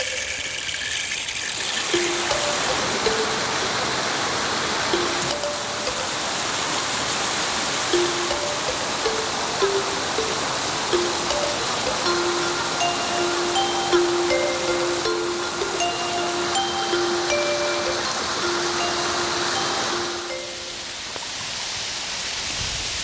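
The 1,000-stage waterfall at Bifeng Gorge pours in a dense, continuous roar of rushing water, steady and loud for the whole stretch, with faint tonal chirps drifting over it and no talking.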